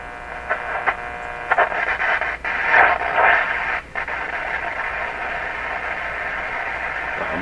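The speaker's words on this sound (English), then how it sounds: "Sounded like shortwave, like a Morse code there for a second." A Stromberg Carlson Model 515 radio tuned to the AM band gives static and hum, with a few brief tonal bursts and crackles that suggest faint shortwave or Morse signals, then settles into steady hiss.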